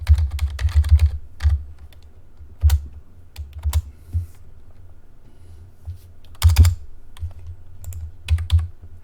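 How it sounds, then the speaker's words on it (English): Typing on a computer keyboard, with close, crisp clusters of key clicks in quick bursts separated by short pauses. "I'm going to type project directory."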